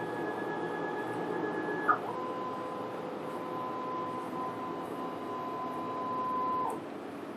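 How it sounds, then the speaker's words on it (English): A UV printer runs a vertical print head calibration test, giving a steady mechanical hum with sustained tonal whines that shift pitch partway through, plus a brief click, all alone without speech. "then we print the vertical calibration again to check"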